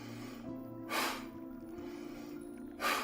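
Two forceful breaths pushed out through the nose during yoga breathing practice, each a short, rushing burst about two seconds apart, close and clear over a faint steady background hum.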